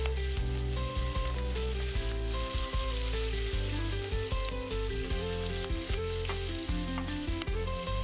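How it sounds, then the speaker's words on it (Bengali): Chopped onions sizzle and fry in hot oil in a wok while a traditional Bengali fish curry is cooked, a steady loud crackle with occasional stirring scrapes throughout. "এখন কেটে রাখা বাকি পেঁয়াজগুলো কড়াইতে দিলাম।"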